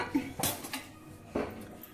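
Butter dropped into a saucepan on a stovetop hob while making a roux: a few light metallic clinks and knocks of pan and utensil, close and quiet, with short gaps between them.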